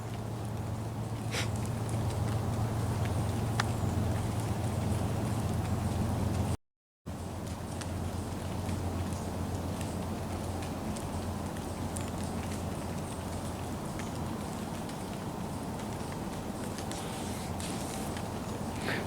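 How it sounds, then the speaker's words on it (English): Fog drip falling as raindrops onto a valley trail, scattered light patters and taps over a constant low hum, with a brief dropout partway through. "The raindrops you're hearing is from the fog."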